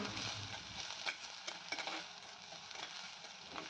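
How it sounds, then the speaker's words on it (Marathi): Onion frying in a pan with a pinch of asafoetida, giving a continuous bright sizzle with intermittent scraping stirs, close and fairly quiet with no voices. "कांदा परतत असतानाच यामध्ये थोडासा हिंग घालून घ्यायचा आणि थोडासा लालसर होईपर्यंत चांगला परतून घ्यायचा आहे"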